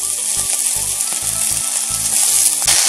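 Roasted pavta (field beans) tipped into a hot pan of spiced oil for a Maharashtrian amti, giving a steady, close, crackling sizzle with a few soft stirring knocks underneath.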